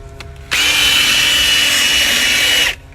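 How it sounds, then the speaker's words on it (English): A power drill fitted with a stiff drill brush scrubbing car interior upholstery, one loud whirring burst of about two seconds that starts and stops abruptly, close up. "Yellow drill brush on a drill."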